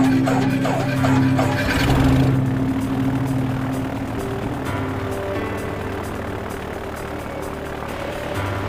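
Steady drone of a light aircraft engine and propeller during spin practice, loud and close inside the cabin, with a brief surge early on before settling into a continuous hum.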